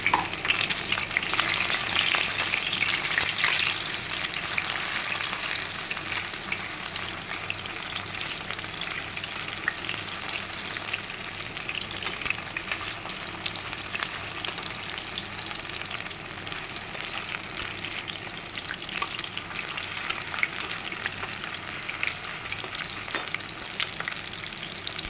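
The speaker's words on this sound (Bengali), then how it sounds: "কড়াইতে তেলটা গরম হলে তারপরে পকোড়াগুলো ছাড়বো" Pakoras fry in hot oil in a wok with a dense, continuous crackling sizzle that holds steady and close for the whole stretch, with no voices.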